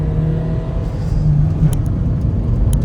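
A diesel Hyundai i20 and a diesel Suzuki Swift Dzire accelerate hard side by side in a drag race, a loud, close, droning engine roar that rises slightly as the cars pull away, with no talking.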